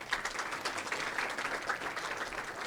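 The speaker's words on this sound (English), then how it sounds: "so give him a round of applause" Applause from an audience at the 2025 Gridiron Banquet, a steady wash of many hands clapping from across a room, moderately loud and continuous with no talk over it.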